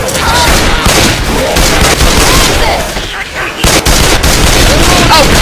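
Loud, dense gunfire from weapons in a zombie video game, overlapping bursts and booms filling the clip, with a short lull partway through.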